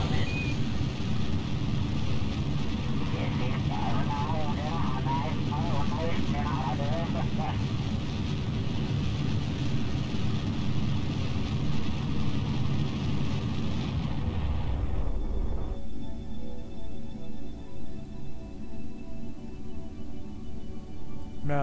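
Rocket engine roar in Kerbal Space Program, a steady loud rumble that cuts off sharply partway through at staging, leaving a quieter lower drone afterward; no talking.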